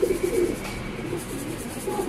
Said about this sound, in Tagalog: Eh, ito yung ibong ko, tas kay Pare Michael, dalawa.